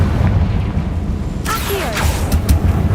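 A Confringo spell bursts into a sudden broadband blast partway through, cast in Hogwarts Legacy over steady low game ambience, then trails off with a few brief crackling whooshes.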